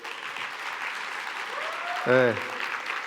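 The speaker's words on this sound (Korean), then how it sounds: "박수 한번 부탁드릴게요" Applause fills a keynote hall at a tech conference, a steady wash of clapping from the crowd, while someone speaks a brief word near the end.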